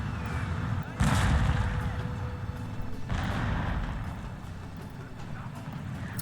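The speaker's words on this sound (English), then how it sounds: "I'm presuming that's from the artillery that he's brought the European cannons." European cannons fire in the Shogun 2 Total War video game, two heavy booming shots a couple of seconds apart under a continuous battle din of clattering and rumble.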